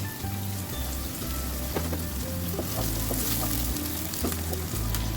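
Small shrimp and chopped green chilies with onion frying in a pan for a pui shak dish, a loud continuous crackling sizzle with scattered pops and occasional stirring clatter.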